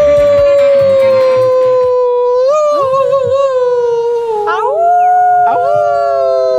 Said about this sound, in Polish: Takie psy mają tak, że jak się powie au, to one odpowiadają.